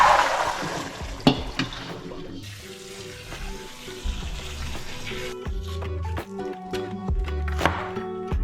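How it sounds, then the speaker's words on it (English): Beans rinsed under running tap water give a continuous splashing hiss with occasional clicks and knocks, mixed with background music. "Time to rinse our beans."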